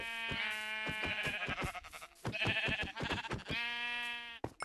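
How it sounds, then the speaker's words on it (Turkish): Sheep bleating in the video game Minecraft, a run of loud, close, wavering bleats repeated several times in quick succession with short gaps between them, alone without talk. "Arkadaşlar bir tane koyun buldum. Hemen öldüreceğim."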